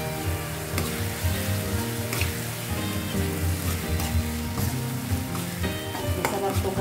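Corned beef frying in a pan makes a loud, continuous sizzle with crackling spatter and stirring scrapes throughout, no voices over it.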